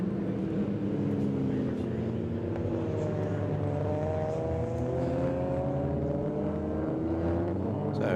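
Race cars circle Winton circuit during a regularity session at a festival of speed, a steady engine drone with rising and falling tones from several cars, while a commentator talks over it.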